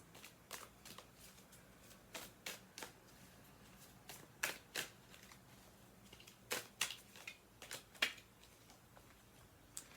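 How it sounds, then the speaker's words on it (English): Tarot cards are handled and one is pulled from the deck, making faint, quiet flicks and papery snaps in irregular clusters against a near-silent room. "I'm going to pull one more card from here"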